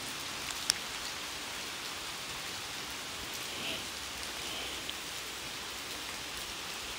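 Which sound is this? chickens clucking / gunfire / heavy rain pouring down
heavy rain pouring down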